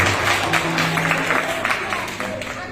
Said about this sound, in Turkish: Bir alkış istiyorum Avusturya'dan gelen misafirlerimiz için.